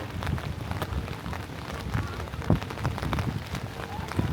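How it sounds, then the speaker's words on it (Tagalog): Rain falls hard, driven by strong wind, in a steady close patter and rush with gusty swells and a few sharper spatters near the middle. "Kusog yung hangin kay uwan."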